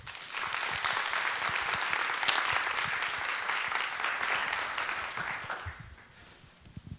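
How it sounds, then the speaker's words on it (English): A keynote audience at GSVC 2018 bursts into a full round of applause for the speaker, dense steady clapping for about six seconds before it thins out and fades toward the end. "Give a big round of applause."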